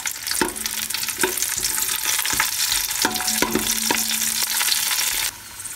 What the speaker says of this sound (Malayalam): എന്നിട്ട് ഇതൊന്ന് നന്നായിട്ട് വറുത്ത് കോരി മാറ്റി വയ്ക്കണം.